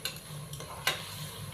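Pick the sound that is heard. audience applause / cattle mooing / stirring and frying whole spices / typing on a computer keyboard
stirring and frying whole spices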